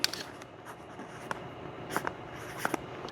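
Quiet scratchy strokes of a marker or pencil writing measurements on an OSB board, several short close scrapes and taps over a faint background hiss.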